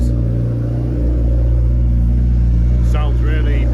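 A 1991 turbocharged Suzuki GSX-R motorcycle engine runs at a steady, loud, deep rumble that settles toward idle, with a brief rising tone near the end.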